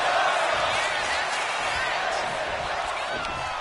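Arena crowd roaring and cheering throughout a women's wrestling match in WWE 2K26, a steady dense wash of voices at high level with a commentator talking over it.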